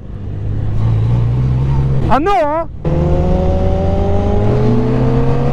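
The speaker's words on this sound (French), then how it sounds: "Les passages de rapport quand t'accélères." A Can-Am Spyder F3-S Special Series three-wheeler accelerates hard on pavement, its engine climbing in rising sweeps through several gear changes, loud and close, with an excited rider's voice speaking briefly over it.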